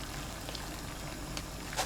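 A pot of water with a spoonful of sugar boils for blanching taro stems, giving a faint, steady bubbling hiss with a few soft pops and no talk.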